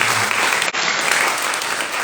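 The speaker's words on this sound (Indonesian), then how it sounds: "Siapa yang memberkati pada malam hari ini, boleh berikan sorak-sorai yang terbaik dari Tuhan" A church congregation at an evening worship service applauding and cheering, a dense, loud, continuous roar of clapping that fills the room from start to finish.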